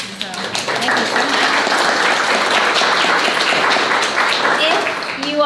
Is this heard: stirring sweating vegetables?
no